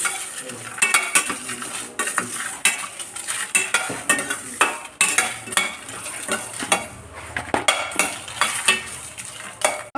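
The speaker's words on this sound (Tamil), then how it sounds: "வாசனை வர அளவுக்கு நல்லா வறுத்தா போதும்" Coriander seeds and dried chillies dry-roasting in an empty pan for Kerala fish curry, with rapid rattling and scraping of a spatula against metal in quick bursts, close and lively, no talk.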